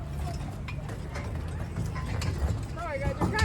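Horses walking near a parking lot at an apple farm ranch in Oak Glen, California, with light irregular hoof clops and clatter under nearby talking voices.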